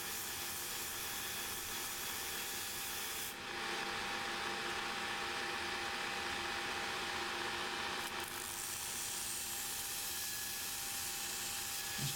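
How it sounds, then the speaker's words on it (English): Bench grinder grinding a crook knife blade makes a steady high whirring hum, with a bright harsher grinding wash starting partway and cutting off a few seconds later as the metal leaves the wheel. "Just going to take a little bit more off on this grinder"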